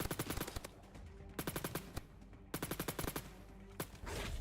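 Rapid 9mm pistol gunfire in a video game, heard as loud, tight bursts of shots in quick strings with short pauses between volleys, close up and with no voices over them.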